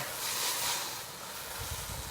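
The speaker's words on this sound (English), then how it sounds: "wok hay, or the breath of the wok, is that sizzling that you're hearing on that red hot wok" Noodles stir-fry in a red-hot wok, giving off a loud, steady, hissing sizzle that runs without a break from start to finish, close and full.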